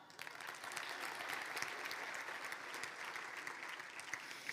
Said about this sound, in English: Want to give them a round of applause?